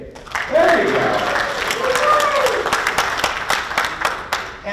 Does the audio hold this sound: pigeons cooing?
no